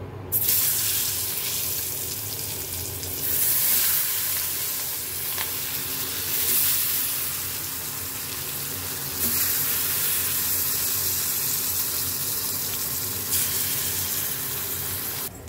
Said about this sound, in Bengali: এখানে হচ্ছে তেল গরম হচ্ছে, আমি এই যে মিষ্টি কুমড়ার চাকগুলা ভাজবো